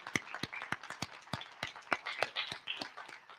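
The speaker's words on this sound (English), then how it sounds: "So give yourself a round of applause if that's what you do." An audience at a public discussion of the opioid crisis applauds with a brief patter of claps, sparse and fairly faint, tapering over a few seconds without voices.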